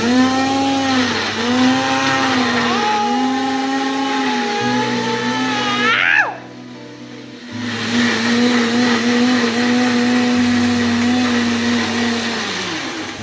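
A kitchen mixer grinder blends tomatoes into puree with a loud, close, high-pitched motor whine that runs, cuts out briefly for a second or so, then whirs up again and keeps running steadily.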